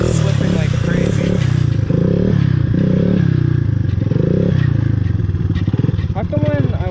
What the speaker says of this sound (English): Honestly, this thing sounds like a dirt bike. It does not sound like a three-wheeler.